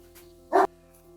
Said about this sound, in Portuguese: Peraí que tem um cachorro latindo aqui